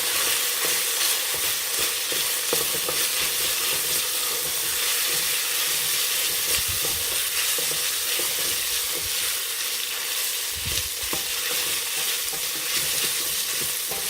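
Tomato sauce stirred into a pot of hamburger soup produces a continuous close sizzling hiss, with spoon scrapes and gentle liquid sloshing throughout and no talking.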